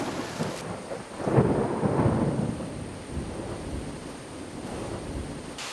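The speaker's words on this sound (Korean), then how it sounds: "갑자기 쏟아지는 장대 같은 소나기" A sudden heavy downpour bursts over a cliffside where wild honey is gathered, with rumbling thunder rolling under a dense, steady roar of rain that swells midway and stays loud throughout; no voices.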